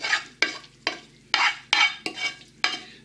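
Sausage filling is mixed with chopped onions in a bowl. A spoon pushes and scrapes through the moist mixture in repeated strokes, each one a wet squelching swish, at a steady rhythm close by.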